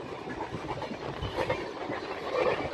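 The Hazrat Nizamuddin–Chennai Rajdhani express rushes past near the Ramagundam line, a steady loud roar of wagons and rail rumble with clickety-clack rhythm, buffeted by strong wind, heard alone without talk.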